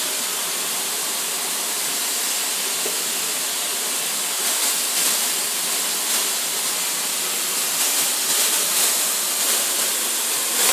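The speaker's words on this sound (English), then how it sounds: "We're going to go skin side down. You hear that great sizzle." Cornish hen pieces, seasoned with lemon pepper, sizzle skin side down on a hot grill, giving a steady loud hiss that runs unbroken throughout.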